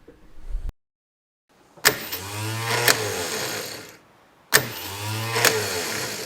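A starter motor solenoid from a Toyota KE70 Corolla fires twice, each time with a sharp clunk as it pulls the lever and hook, then a buzzing whir for about two seconds before cutting off. There is no talking.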